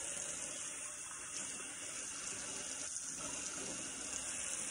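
Water runs steadily into a pan of smothered potatoes, a continuous, close hiss and splash with no talk.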